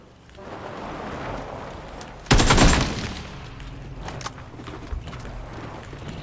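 Gunfire in the battle-royale game PUBG: one sudden loud burst of shots stands out against a steady low background, followed by quieter scattered clicks and thuds.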